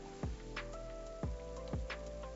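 Rain falls in the zoo-building video game Planet Zoo as a faint, steady patter, broken by a few soft low thuds spaced about half a second apart, with no voices.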